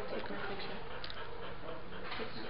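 A big dog pants steadily at close range, a soft, breathy rhythm of quick in-and-out breaths that runs the whole time, with faint background noise and no clear talking.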